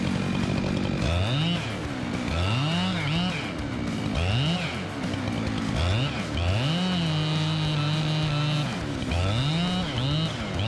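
A chainsaw cutting wood, its engine revving up and dropping back in repeated cycles with one long sustained cut, loud and steady throughout while a voice speaks over it.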